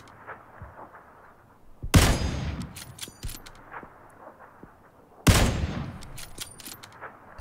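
Two sharp, loud gunshots ring out in the PUBG battle royale game about three seconds apart, each followed by a trailing echo, with faint scattered ambient noises in between.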